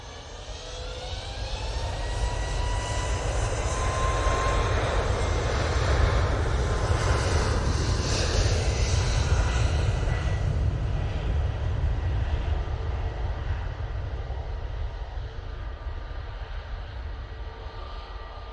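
Heavy, continuous jet roar of an airliner departing Manchester Airport for Dublin, building to a peak midway and then slowly fading as it climbs away, with no speech.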